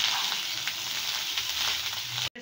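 Cooked rice tipped into a hot pan and stirred for mango ginger rice: a steady, close sizzle with soft scraping, holding level for about two seconds before cutting off.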